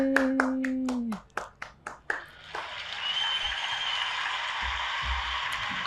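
Hosts clapping their hands on a show: a handful of sharp, distinct close claps in quick rhythm, followed by a softer, continuous crowd-like applause wash mimicking stadium cheering.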